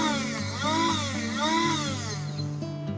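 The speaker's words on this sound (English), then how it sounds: "Battery operated single blade grinder." A battery-operated single-blade coffee grinder runs in pulses, its motor whine rising and falling in strained sweeps over a steady drone, close and fairly loud throughout.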